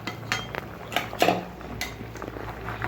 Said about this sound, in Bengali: ডিমগুলো আমি উঠে নিচ্ছি আলুর মাঝখান থেকে